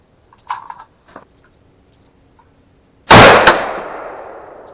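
An AR-15 rifle chambered in 6.5 Grendel fires one loud, sharp shot outdoors with a ringing decay, after a few faint clicks and handling sounds.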